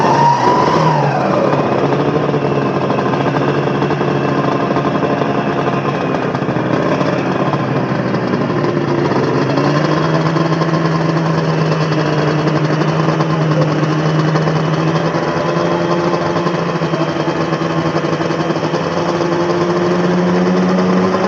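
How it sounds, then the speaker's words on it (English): A big two-stroke classic motorcycle engine runs continuously at a motorcycle show, its loud, buzzy, ringing note holding steady with a slight pitch shift partway through, and no voices over it. "Let's hear the big stroker fired up"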